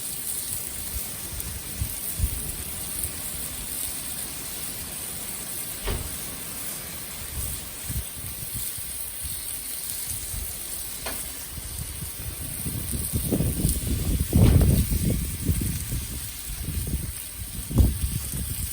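Peppers sizzling in a paella pan over a cooking fire outdoors: a steady frying hiss that swells louder near the end, with crackles and occasional pops.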